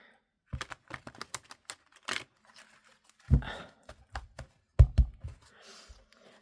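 Tarot cards being shuffled and riffled up close, bursts of quick flicking and soft slapping with brief pauses between.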